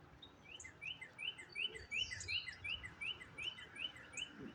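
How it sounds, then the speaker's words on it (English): A cardinal sings a steady series of repeated chirping whistles at an even pace, fairly clear over a low outdoor rumble. "You hear the fat fucking cardinal?"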